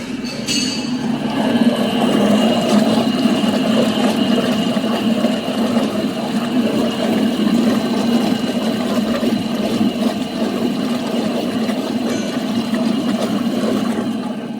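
A 20-litre vacuum emulsifying mixer runs its dispersing function continuously with a steady motor hum and churning, whirring tone, unchanging throughout and fairly loud.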